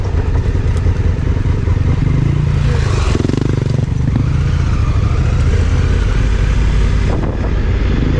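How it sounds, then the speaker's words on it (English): A motorcycle approaches fast from behind on a forest road, its engine rising into a loud continuous roar under heavy wind and road rumble, heard close up from another vehicle. "You got a bike coming up behind us fast."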